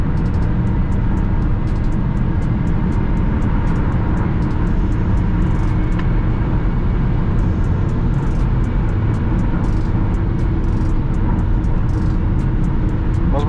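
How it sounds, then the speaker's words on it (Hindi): A Toyota Camry accelerating on the road, heard from inside the cabin as a steady, loud engine and road rumble that holds throughout, with faint ticking clicks above it. "पिकअप तो बहुत बढ़िया है इस गाड़ी का।"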